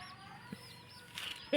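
A one-year-old, two-kilogram rooster on a small farm gives a couple of short, close clucks over a quiet background.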